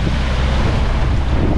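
Strong wind and breaking waves batter a sailboat at sea, with water sweeping over the deck. A loud, continuous roar of gusts and surf carries buffeting wind noise on the microphone throughout, with no talk.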